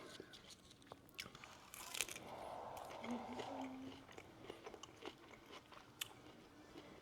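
Fresh homegrown hydroponic romaine lettuce being bitten and chewed close to the mic, soft crisp crunches and wet chewing sounds in quiet surroundings, with a brief murmur of voice.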